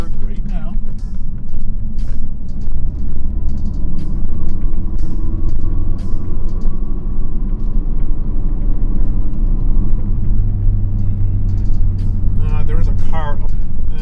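A Ford Focus RS engine with a stratified tune drones steadily from inside the car, revving and building as it accelerates in third gear, with a constant road rumble and occasional clicks.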